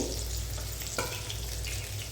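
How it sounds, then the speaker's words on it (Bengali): Okra fries in oil in a pan over a low gas flame, a soft, steady sizzle with a light scrape of stirring near the middle. "আমি গ্যাসের ভলিউমটা লো রেখে 2 মিনিট ভেজে নেব"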